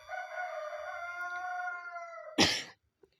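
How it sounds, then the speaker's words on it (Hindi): A rooster crows nearby in a long drawn-out call ending in a harsh, noisy burst, alone without talk and fairly soft overall. "मुर्गा भी बांग दे रहा है कि उठ जाओ करके"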